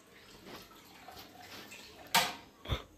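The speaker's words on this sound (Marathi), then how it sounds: "ही वाटी भरून मी पाणी टाकते या कढईमध्ये." Water is poured from a bowl into a kadhai in a home kitchen, a soft background splashing followed by two sharp, close splashes near the end, with no talking.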